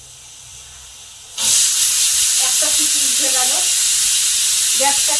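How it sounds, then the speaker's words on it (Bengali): A pressure cooker set on a gas flame at high heat, holding rice, beans and potatoes, lets out a sudden loud, steady rush of hissing steam after a quiet start, and the jet keeps going without a break. "এটা গ্যাসে বসিয়ে দেব হাই হিটে একটি সিটি দেব"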